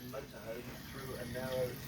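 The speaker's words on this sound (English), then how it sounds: "hot water coming out the vanity unit" Hot water runs from the vanity unit tap in a Swift Conqueror 530 caravan, a soft steady trickle and splash heard close by under low background sound.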